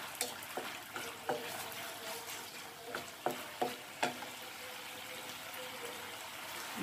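A creamy chicken 65 sauce bubbles and thickens in a pan, with a soft, steady sizzle broken by scattered pops and stirring knocks up close.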